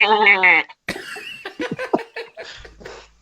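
A man imitates a goat, giving a nasal, wavering bleat lasting about half a second. Laughter and short talk from others follow.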